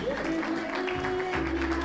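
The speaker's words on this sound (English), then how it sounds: "how about a big round of applause for all of our couples that participated" Wedding guests clap for the married couples in a short, dense burst of applause mixed with crowd murmur and music.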